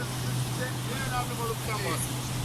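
Boat motoring through a canyon on the Euphrates River, a steady engine drone with wind rush throughout, and someone talking over it.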